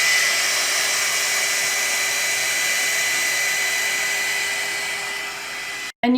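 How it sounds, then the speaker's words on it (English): A GHD Duet Styler hair dryer-straightener blows steadily while drying hair, giving a loud, continuous close-up airy whir that holds for about six seconds before cutting off abruptly. "I'm going to use the GHD Duet Styler, which quite literally halves the time it would normally take for me to dry and then straighten my hair"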